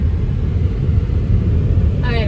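A car jolts and bounces over bumps on a mountain road, heard from inside as a heavy, continuous low rumble of engine and road noise, loud and close throughout.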